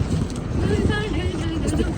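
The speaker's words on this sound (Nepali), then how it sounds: "हावा चलिरहेछ चिसो भएको छ" Steady cold wind in Japan rushing and buffeting across the microphone, a continuous low roar with no clear breaks.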